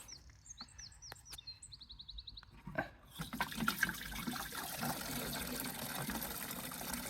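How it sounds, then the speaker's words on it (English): Water poured from a bucket into a container at an allotment, a faint splashing stream that starts a few seconds in and runs steadily, with bird chirps in the background. "I'll pour the bucket into the container and use the container of water"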